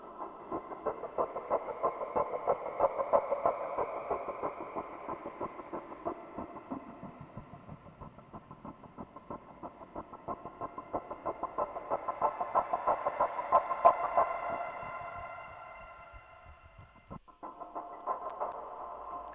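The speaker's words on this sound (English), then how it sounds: "show you how it could sound with two different types of Shimmer Reverbs" A granular synth pad drenched in shimmering reverb, swelling and fading in long waves with a pulsing, glittering upper haze; no speech.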